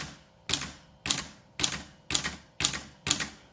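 Six evenly spaced, crisp clacking strikes on an old typewriter being cleaned up, close and fairly loud with a short ring after each, no voices.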